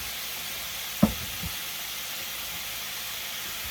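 Ground beef and garlic frying in a pan, a steady close hissing sizzle broken by one brief knock of a utensil near the start, with no talk.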